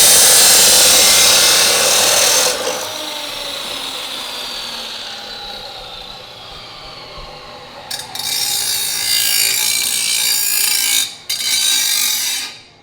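An exhaust tailpipe being cut to length, a loud rasping cut that runs steadily, eases off, then returns in bursts with brief pauses near the end.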